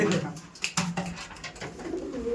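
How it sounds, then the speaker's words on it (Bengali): Pigeons in a rooftop loft coo in low, broken bursts, soft throaty calls at close range with brief gaps between them. "ওপরেও কিছু পায়রা আছে এটা দেখিয়ে দিই"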